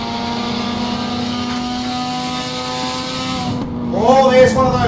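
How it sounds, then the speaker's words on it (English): A Mazda Capella rotary race car engine in a video game drones steadily at high revs throughout, with a sharper rev rising near the end; close and loud. "Man, that's a Mazda Capella rotary."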